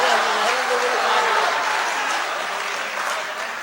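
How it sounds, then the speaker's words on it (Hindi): An audience claps at a mushaira, a dense, even wash of applause that holds steady and fades slightly toward the end, with no voice rising above it. "एक बार ताली बजा के बता दे तो दोबारा भी पढ़ दिया"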